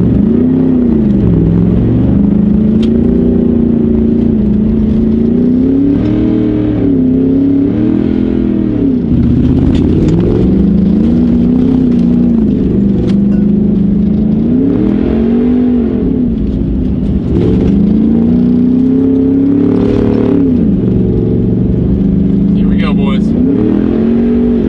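A lifted Ford F150 with a 6.2L V8 accelerates hard down a dirt road, its loud engine rising and falling through repeated revving surges with constant roar and some rattling, close and sustained throughout.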